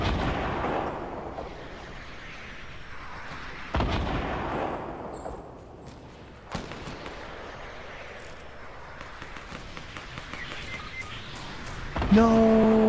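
Fortnite gunfire in a battle royale match, with a few heavy booming shots and blasts over a continuous game background rumble, distant to mid-range and fairly loud.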